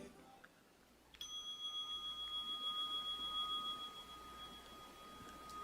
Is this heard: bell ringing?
yes